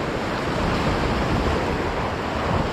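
Ocean waves wash against a shoreline used for shore jigging, a steady, loud rushing roar of surf with wind noise and no voices.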